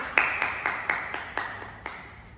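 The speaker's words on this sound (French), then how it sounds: "Et on s'applaudit, les amis." Young children at a ninja activity class for ages 3 to 5 clap their hands together in about eight sharp, evenly spaced claps, close and fairly loud, with no talking.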